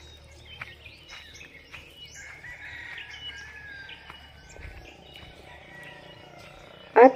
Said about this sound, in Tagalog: At dahil maaga pa nga ating maririnig ang mga tilaok ng manok.